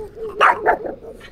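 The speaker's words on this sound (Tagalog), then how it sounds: "Ah, may aso." A dog barks a few short, loud yips in quick succession close by at a coast guard station in the morning, with a voice talking around the barks.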